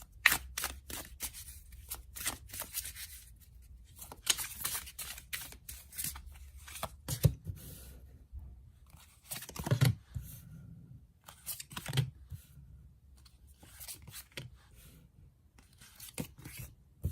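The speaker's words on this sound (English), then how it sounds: "let's shuffle some cards and gauge this energy for air signs" Tarot cards being shuffled by hand in quick, irregular bursts of crisp flicking and riffling, close and fairly quiet, with short pauses between handfuls.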